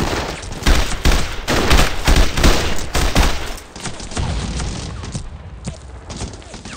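Dense wartime gunfire from the iOS shooter Brothers In Arms Hour of Heroes, rapid volleys and bursts cracking close and loud over a continuous battle din, easing slightly after the first few seconds.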